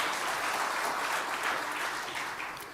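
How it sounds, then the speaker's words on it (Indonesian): An audience claps in a steady, even round of applause at an evening address, the sound fading slightly toward the end. "Tepuk tangan untuk Pak Nana,"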